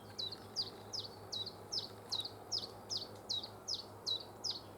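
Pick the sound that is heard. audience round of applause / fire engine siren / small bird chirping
small bird chirping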